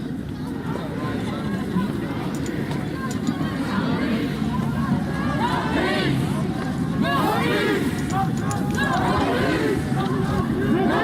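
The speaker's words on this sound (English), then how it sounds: "So here we are marching in the midst of the crowd" About 300 people march together through city streets at a peaceful protest, a dense, continuous babble of many voices and footsteps heard from within the crowd.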